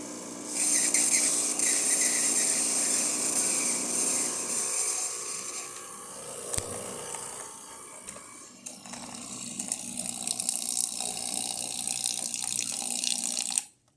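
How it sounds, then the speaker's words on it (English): Rancilio Silvia espresso machine dispensing hot water, a steady splashing pour with gurgling and a brief mid-stream sputter, running continuously until it cuts off abruptly at the end. "The hot water also works perfect."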